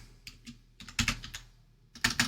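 Typing on a computer keyboard in a quiet room, a few scattered key clicks followed by short quick clusters of taps, close and crisp with no speech.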